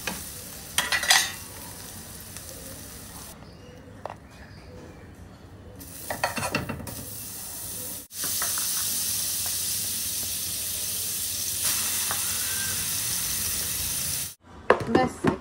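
Egg toast frying in oil in a pan, a continuous close sizzle and hiss broken by stirring and scraping noises, with no talk over it.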